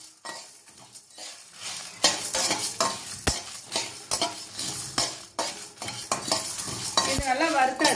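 Chettinad mutton chukka masala roasting in a pan: close, brisk stirring and scraping with a metal spoon over a soft sizzle, the clatter growing louder and busier after the first couple of seconds.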